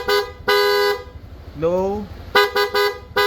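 Short stock horn toots from a Honda Click V3 scooter sound close, with two honks, a pause, then a quick burst of several beeps; a voice speaks briefly in between.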